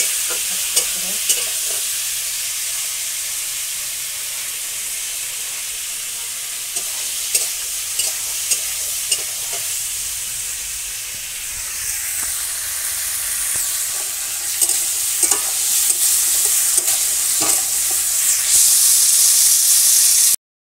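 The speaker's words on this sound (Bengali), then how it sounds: "কাঁকড়গুলো ভাজা হবে।" Kakrol (spiny gourd) frying in oil in a village kitchen, producing a continuous close sizzle and hiss that swells slightly at times, dotted with small crackles and pops.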